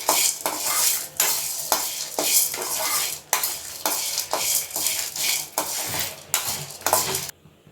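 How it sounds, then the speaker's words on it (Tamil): Red chillies, peanuts and urad dal dry-roast in a kadai. A spatula stirs and scrapes them in a steady rhythm of loud metallic swishes and rattles, with faint sizzling underneath. "இப்போ அதில் காஞ்ச மிளகா வேர்க்கடல உளுத்தம்பருப்பு போட்டு லைட்டாக தவக்க வறக்கணும்"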